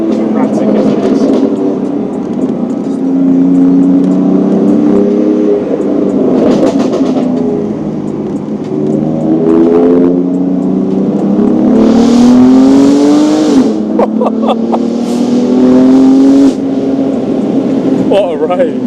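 BMW M3 Competition F80 driving on the road, engine droning steadily with rising and falling rev sweeps and a couple of sharper revving surges, loud and continuous throughout.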